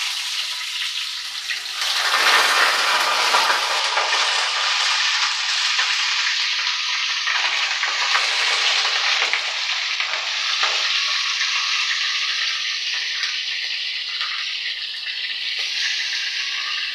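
Hilsa fish rubbed with salt and turmeric hits hot oil in a kadai, bursting into a loud, bright sizzle that settles into a steady, crackling fry for the rest of the stretch.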